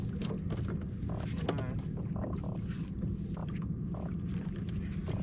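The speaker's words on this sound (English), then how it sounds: "See what the trolling motor's trying to correct here" A boat's trolling motor runs steadily on the St. Johns River during shrimp netting, a continuous low hum and churn of water with scattered splashes and knocks throughout.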